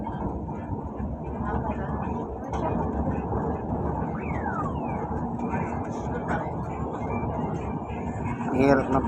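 A crowded LRT light rail train rumbles along in a steady, low mechanical drone, with a brief descending whine partway through and faint background voices.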